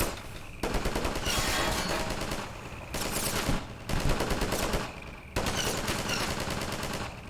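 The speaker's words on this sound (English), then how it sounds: "Oh yeah, this turret." A mounted turret in Half-Life 2 fires in long automatic bursts: three loud, rapid streams of gunfire split by brief gaps, with no talking.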